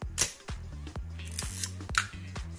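A Zorki 4 film camera shutter fires at 1/125, sharp mechanical clicks and snaps repeated several times close to the microphone over a faint steady electrical hum.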